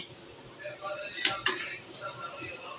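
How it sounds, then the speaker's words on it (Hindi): A spoon gently turns dhokri in a cooking pan, giving a couple of faint metallic clinks close together amid low kitchen background noise. "अब आस्ते से चम्मच आपको हिलाना है ताकि आपकी ढोकरी टूटे नहीं"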